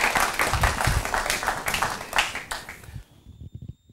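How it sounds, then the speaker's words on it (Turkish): An audience applauds a drum and zurna team at a Bayburt folk program, the clapping close, fairly loud and uneven for about three seconds before it stops abruptly and a few scattered claps trail on. "Alalım, hadi alkış alalım."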